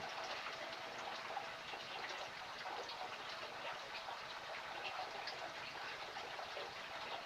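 Steady rushing water runs continuously at a quiet, even level while an aquarium's water is being changed, with no voices.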